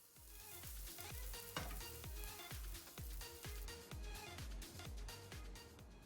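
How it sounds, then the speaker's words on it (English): Asparagus stir-frying in olive oil in a pan, a steady close sizzle with a regular rhythm of stirring or tossing strokes about every half second, continuous and without talk. "Take a pan, put some olive oil in it, and throw your asparagus in there and stir fry it for about 10 minutes"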